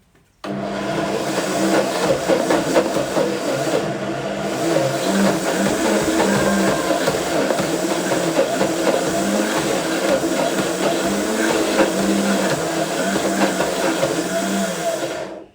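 A mixer whirs steadily through a batch of vegan chocolate truffle mixture, a loud continuous motor drone holding nearly unchanged from start to finish.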